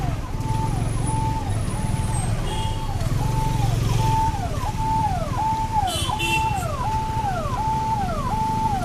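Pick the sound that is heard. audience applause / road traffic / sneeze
road traffic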